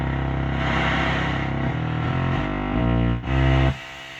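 Noise generator on a Yamaha CS70M synthesizer, a loud sustained hiss blended with shifting tones that change in steps, briefly dipping near the end before resuming.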